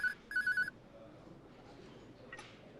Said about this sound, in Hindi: आरिफा का फोन है,